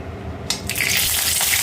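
A bay leaf dropped into hot cooking oil sets off a sudden, loud sizzle that bursts in and keeps crackling and hissing close by without a break.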